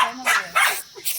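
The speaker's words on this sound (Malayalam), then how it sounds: "അങ്ങനെ അശ്വിൻ ഇതാ കമ്പനി പട്ടിയെടുത്ത്." A dog at a house in Nepal gives a quick series of three or four short, close barks in an even rhythm.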